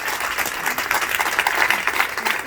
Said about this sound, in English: Keep clapping. Yeah, keep clapping.